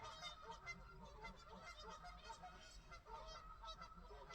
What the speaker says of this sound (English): Those geese are going crazy over there.